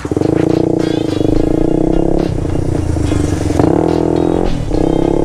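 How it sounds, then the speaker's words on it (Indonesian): Honda CBR 150 and Kawasaki Ninja RR 150 SE sport motorcycles on a group ride, loud and close, with a steady droning engine note that rises and falls slightly under wind rush. "new ride bareng Honda CBR dan juga Kawasaki Ninja RR 150 SE"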